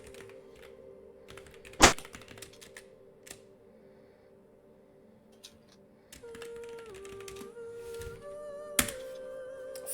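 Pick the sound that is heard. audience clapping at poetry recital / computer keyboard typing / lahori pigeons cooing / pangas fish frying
computer keyboard typing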